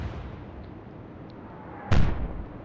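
A single heavy naval gun shot booms out in the Atlantic Fleet game, a sharp loud blast that rings briefly over steady low background rumble.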